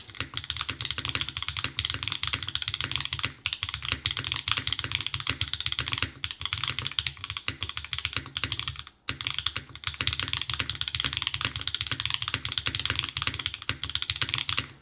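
Dense, continuous typing on a Float65 mechanical keyboard with Obscura switches, stock FR4 plate and Kikobo Sacred Timeline keycaps, rapid clacky keystrokes at close range with a deep, full thock, sustained throughout with only brief pauses and no voices.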